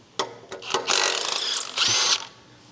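A ratchet wrench undoes a 13 mm bolt holding the middle section of an Abarth 500 exhaust to the gearbox, giving a few sharp clicks followed by two longer whirring spins, close and loud.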